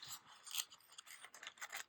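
Scissors snip and rasp through old, wrinkly used tissue paper in a series of quick, close cuts, quiet and alone with no talking.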